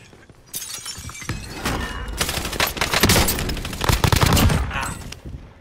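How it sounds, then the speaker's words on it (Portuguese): Gunfire in a Warzone Resurgence match on a jungle map: sharp, loud shot cracks and rapid bursts layered with shattering impacts, growing denser midway before trailing off. "Um sniper me atirou aqui fora."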